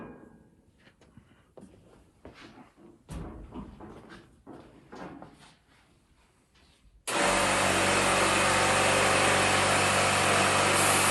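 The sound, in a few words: air compressor pumping pressure back up into air tank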